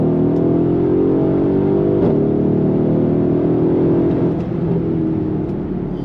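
Mercedes-Benz GLE 63 AMG S Coupe engine and exhaust note, a loud, steady low drone heard from up close that rises slightly and shifts pitch as gears change, with no voices over it.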